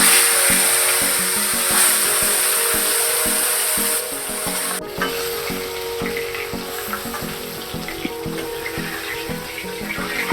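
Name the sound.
fish and eggs frying in pan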